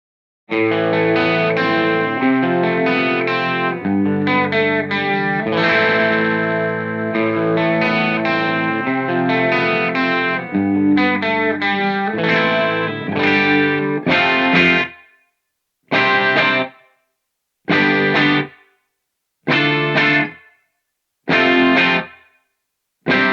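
Distorted electric guitar through a Mooer GE300 with a JCM800-style tone, playing sustained chords for about fifteen seconds, then five short stabbed chords separated by silences, each with a brief room reverb tail.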